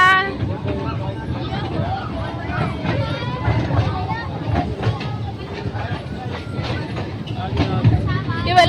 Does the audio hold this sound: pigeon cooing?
no